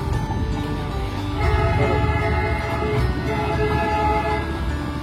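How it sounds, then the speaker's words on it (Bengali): Darjeeling toy train passing near a hotel amid heavy Siliguri-area traffic, a steady loud rumble of rail cars with low mechanical drone throughout, no talk. "ফাইনালি বন্ধু টয় ট্রেনের দেখা পাওয়া গেল এতক্ষণ পরে"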